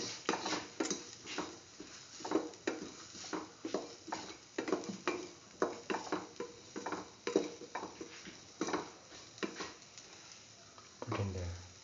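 A spoon stirs a kidney bean and potato stir fry with tomato sauce in a pan, giving steady rhythmic scraping and clinking strokes, close and moderately loud, with no voices.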